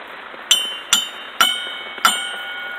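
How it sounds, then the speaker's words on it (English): A metal part from a John Deere mower's steering assembly is struck four times with a piece of metal, each close, sharp hit ringing out in a bright, gong-like tone that decays quickly. "It's like a gong sound."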